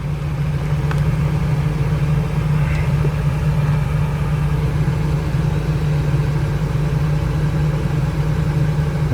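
A 1999 Ford E150 with a 4.6-litre V8 idles steadily after new spark plugs for a cylinder 3 and 4 misfire, a close, loud, even low rumble with no revving.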